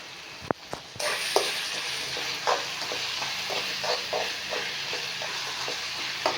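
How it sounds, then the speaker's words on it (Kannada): Chitranna gojju sizzles steadily in a pan, with stirring scrapes and clacks of a spoon recurring every second or so over a constant frying hiss, close and moderately loud, with no talk. "ಸ್ವಲ್ಪ ಫ್ರೈ ಮಾಡೋಣ."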